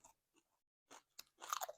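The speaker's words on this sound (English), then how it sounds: "Sorry about crunching in the microphone, too." Spicy Mac's pork rinds crunch and crackle between the teeth, close to the microphone, in a few scattered bites that build into a dense burst of chewing at the end.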